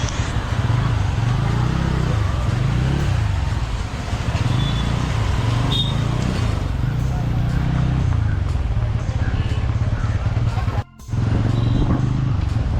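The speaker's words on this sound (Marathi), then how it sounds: "बघा किती ट्रॅफिक लागलेलं पूर्ण." Busy road traffic crawling through the crowded Khed market, a continuous wash of car and motorcycle engines with a steady low rumble, close and loud throughout, with a brief dip near the end.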